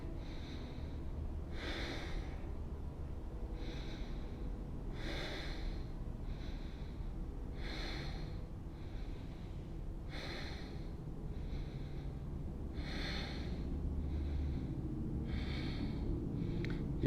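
Steady, audible breaths repeat in an even rhythm, roughly every one to two seconds, over a low background rumble while someone holds a yoga plank during a power yoga flow. There is no talking.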